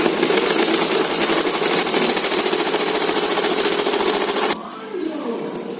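A sewing machine runs fast and loud, rattling steadily as it stitches a blouse lining, then stops abruptly near the end, leaving quieter handling sounds.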